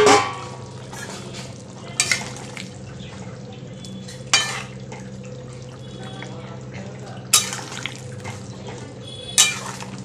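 Fried boal catfish pieces slide into a simmering potato curry in a pan, giving a few soft splashy clatters and stirring scrapes over a steady low bubbling simmer, close by and fairly quiet.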